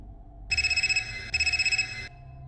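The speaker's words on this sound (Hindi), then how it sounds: "तभी फिर से अंदर से आती हुई उसकी फ़ोन की रिंग उसे सुनाई दी।" A mobile phone ringtone chimes from inside a hospital room in two short bursts of rapid, bright electronic pulsing, moderately soft and set against a quiet background with no voices.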